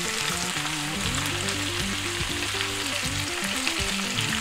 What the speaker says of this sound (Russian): И обжариваем все овощи вместе на большом огне 4 минуты.